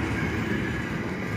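A train passes through Nuneaton station, loud and close, with a continuous rumbling roar of wheels on rails and faint clatter throughout, no voices.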